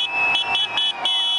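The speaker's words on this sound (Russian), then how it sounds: "водители с удовольствием нажимают на клаксоны" Car horns blare in repeated long blasts, several overlapping in steady bursts, as drivers honk along a crowded street during a nighttime victory celebration by Russia fans in central Kazan.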